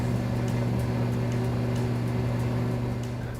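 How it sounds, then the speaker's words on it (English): A Hamilton Beach Eclipse quiet commercial blender runs with a steady, even motor hum and a soft whooshing layer, moderately loud and unbroken throughout, with no talking. "the Eclipse."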